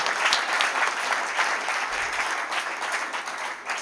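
An audience at a Hindi poetry gathering claps loudly and steadily, a thick, even wash of many hands throughout that eases slightly at the end.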